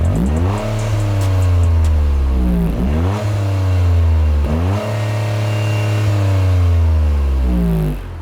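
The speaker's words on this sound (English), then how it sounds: "the best way to demonstrate the exhaust is mic it up" Toyota GR Corolla exhaust recorded up close, revving repeatedly in three long rising and falling sweeps, loud and deep with crackling at each drop, no voices.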